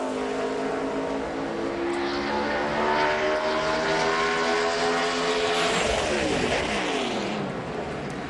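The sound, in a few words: NASCAR Busch Series race car on a qualifying lap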